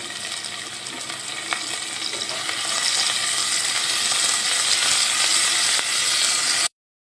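Whole spices, namely bay leaf, black pepper, cinnamon, cardamom and clove, fry in hot oil with a close, steady hiss that grows louder. A few faint stirring clicks come through before it cuts off abruptly.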